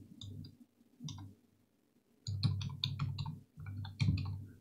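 Bursts of clicky keystrokes on a computer keyboard while entering a command, short quick clusters of taps separated by brief pauses, close and fairly quiet, with no voice over them.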